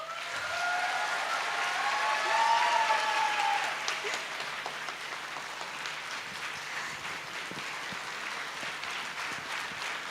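Applause from a student audience at a talk, a broad soft wash of clapping that runs throughout, with a faint voice or tone briefly above it near the start.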